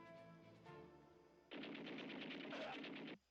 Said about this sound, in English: Is that like a cannon machine gun type thing?